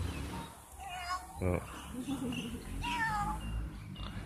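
A cat meows several times in a room at home, with rising and falling calls scattered among the background voices of people talking nearby.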